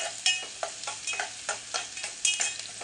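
Masala with curry leaves being sautéed in a pan until reddish, a soft frying hiss broken by regular scraping strokes of a spatula against the pan, close and fairly quiet, with no voices.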